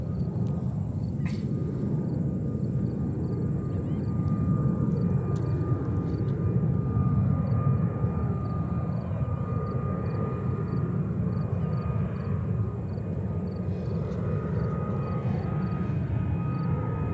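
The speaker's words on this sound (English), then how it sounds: "Next 22 inbound is Qatar 777-300 from Doha." A Qatar Airways Boeing 777-300 landing at New York's JFK Airport, its engine roar a steady, broad rumble that stays loud and continuous throughout with no voices.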